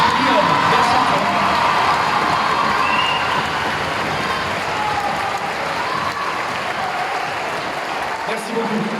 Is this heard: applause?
yes